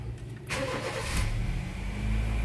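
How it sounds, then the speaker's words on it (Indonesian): A 2009 Honda Jazz S automatic, about ten years old, cranks briefly and fires up, settling into a steady low idle heard close and alone. "Tak coba hidupin mesinnya."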